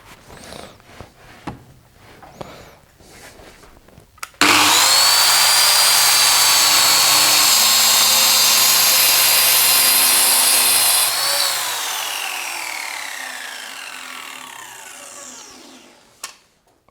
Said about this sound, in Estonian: See oli saagimine painduva juhtsiiniga.